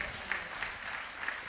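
Church congregation applause in praise of Jesus, a faint, steady patter of many hands heard at a distance with a few slightly louder claps.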